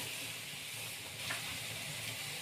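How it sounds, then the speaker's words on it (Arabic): Hot water poured over sautéed chicken in a hot pot gives a steady, close hiss and sizzle of steam that holds evenly throughout, with no talking. "انزل بقى عليها بميه سخنه كده"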